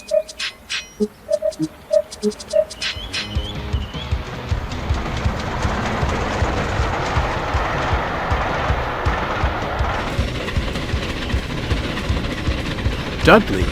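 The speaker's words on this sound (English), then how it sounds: "He thundered along with Henry's goods trains" A train rumbles steadily past with a rhythmic clatter of wheels that builds and holds, after a few sparse tones and knocks at the start.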